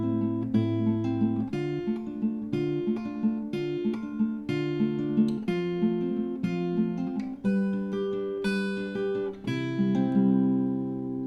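An acoustic guitar plays the second part of the fingerpicking pattern for a song, with steady picked notes ringing into one another, close and clear, with no talking.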